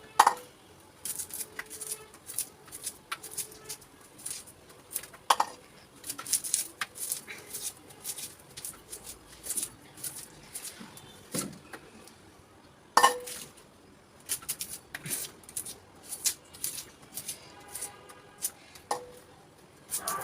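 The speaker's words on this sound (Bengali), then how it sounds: "প্রথমে আমি পেঁয়াজগুলো খুব ভালো করে সুন্দর করে কেটে নেব" A knife chopping onions on a board, with irregular quiet taps and clicks and a few sharper knocks scattered across the stretch, close by and unaccompanied by talk.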